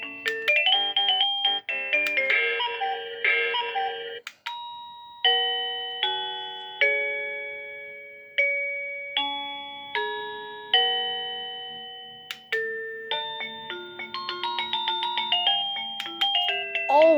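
An AVANTEK wireless doorbell chime plays Für Elise as a clear sequence of bright electronic tones, each note ringing and decaying, close and alone without talk.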